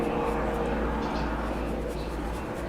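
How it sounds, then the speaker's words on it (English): Helicopter flying overhead heard from inside a garden studio, a steady broad rumbling drone that stays loud and constant throughout. "let's talk later when the helicopter's gone"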